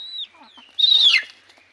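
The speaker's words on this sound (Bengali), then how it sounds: "এই যে মুরগি করতেছে কতগুলো" A few chickens cluck and call nearby, short bursts separated by quiet gaps, with one louder drawn-out call in the middle.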